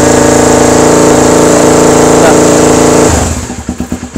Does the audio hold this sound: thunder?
no